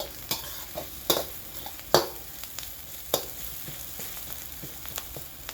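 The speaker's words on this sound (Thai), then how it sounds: "จะผัดให้หอมเลยนะครับเปลี่ยนอุปกรณ์ผัดก่อนครับ" Marinated pork being stir-fried for Thai holy basil stir-fry: a run of scraping, clattering utensil strokes against the pan at an uneven rhythm, with a low steady sizzle underneath and no talking.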